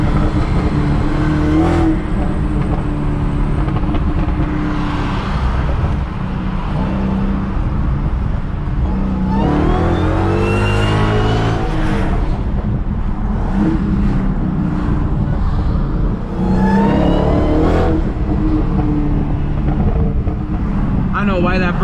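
A Dodge Charger SRT Hellcat with about 800 hp revs and accelerates hard while driving, its loud engine roar rising and falling over the drone of road noise, with occasional voices speaking.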